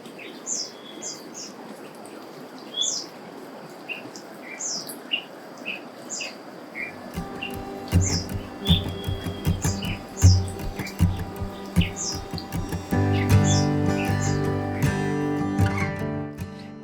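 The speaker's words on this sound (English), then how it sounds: "I hear birds chirping, rooster calling." Birds chirp and tweet repeatedly in open forest air at Gunung Pulai, with scattered calls overlapping; a broader layer of outdoor noise builds up partway through.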